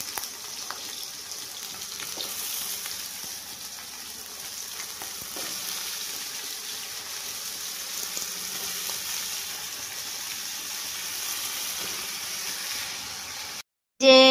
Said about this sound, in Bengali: তো আমি আলুটা তেলে একটু আলু রসুন দিয়ে দিয়েছি, আর এবারে আলুগুলো সব এক এক করে ছেড়ে দেবো